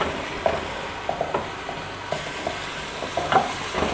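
Garlic-ginger paste frying in a pan for beef nihari, a moderate, steady sizzle with scattered small pops and occasional stirring clicks.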